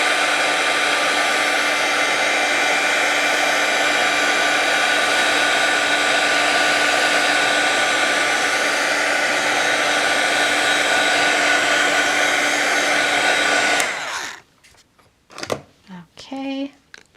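A hair dryer drying a watercolor painting made with brush markers, a loud, steady whirring blast for about fourteen seconds that then cuts off, followed by a few soft handling sounds and a brief voice.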